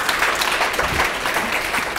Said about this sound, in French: je vous invite à l'applaudir encore une fois.